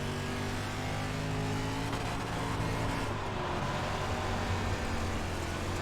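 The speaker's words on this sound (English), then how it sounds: "Try to keep your engine revved up." Dirt late model race car in iRacing at Lernerville, engine revving hard and steadily with a loud, continuous roar and no talk.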